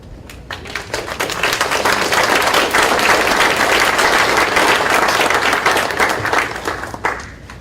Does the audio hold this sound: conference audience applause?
yes